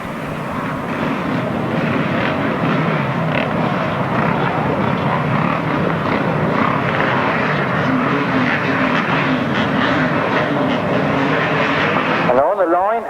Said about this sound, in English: it looks like we're revving up, ready for the first final of the day.